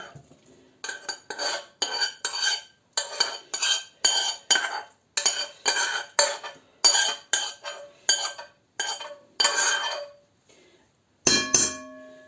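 A spoon scrapes and clinks in rhythmic strokes as fried mushrooms, carrots and onions are poured into a pan and stirred, a run of close, bright metallic scrapes ending with a final clatter.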